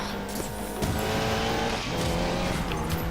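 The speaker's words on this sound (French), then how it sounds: "Pourquoi pas faire du drift en jeune permis avec une Golf 7 Club Sport." A Volkswagen Golf 7 Clubsport drifts in the racing game Need for Speed Payback, with a steady loud engine roar and squealing, skidding tires that run continuously throughout.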